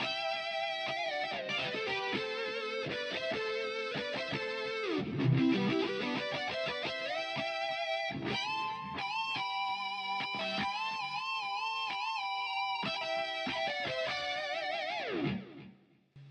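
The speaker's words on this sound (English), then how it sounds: "So that was the harmonize" Electric guitar solo played through a Boss GT-1000 with a harmonizer adding a parallel harmony line, distorted and sustained, loud and continuous with fast melodic runs and a brief low-register flurry midway, alone without talk.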